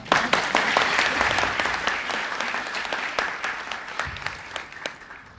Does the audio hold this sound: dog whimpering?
no